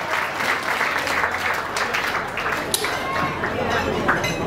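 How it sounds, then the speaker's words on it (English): Guests at a Peruvian quinceañera celebration applaud a birthday speech with loud, sustained clapping, joined by crowd chatter and an occasional clink of glassware in a busy banquet room. "So please give a big round of applause for the beautiful speech from our birthday girl, Shari."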